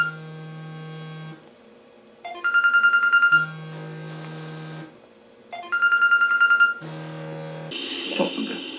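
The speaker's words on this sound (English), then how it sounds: "Oh, that's the phone going off." A phone rings twice in a room, each time as a steady low tone followed by a burst of bright warbling electronic trills, with quieter gaps in between and a little rustling at the end.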